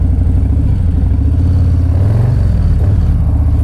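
2024 Harley-Davidson Low Rider ST with its 117 engine, ridden slowly in a parking lot. A loud, close, throbbing V-twin rumble swells with throttle midway and then settles.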